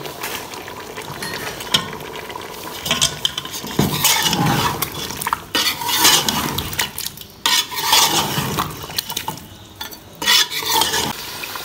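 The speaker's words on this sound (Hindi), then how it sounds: "दूसरा भी पैकेट डाल के अब अच्छे तरीके से हम भून लेंगे।" Chicken being stirred and roasted with haleem spice mix in a large pot, a metal spoon scraping and clanking against the sides amid steady sizzling and frying, close and continuous with no talk.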